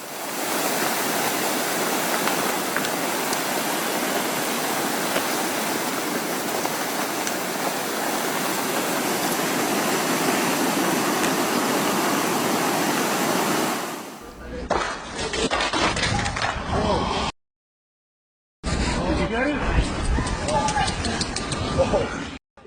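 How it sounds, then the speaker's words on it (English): A massive wet avalanche in Austria pours down a mountainside as a loud, continuous roaring rush like a raging river, steady for about fourteen seconds before giving way to rougher choppy bursts and a brief silence. "A massive wet avalanche in Austria moved down the mountainside like a raging river of snow"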